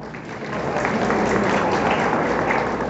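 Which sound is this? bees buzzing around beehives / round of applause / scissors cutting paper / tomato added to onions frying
round of applause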